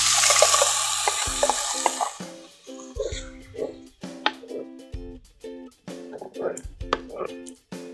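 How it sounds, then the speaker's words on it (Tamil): Lentil water is poured into sautéed drumstick leaves in a pan, an initial rushing splash and sizzle giving way to repeated scraping and clinking stirs, heard close with someone speaking over it. "இப்போ இந்த பருப்பு தண்ணியை நம்ம சேர்த்துக்கலாம்."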